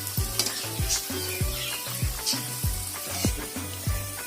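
Soya chunk (meal maker) vadai fry in hot oil with a steady sizzle, broken by regular scraping stirs about every half second, close up and with no talking.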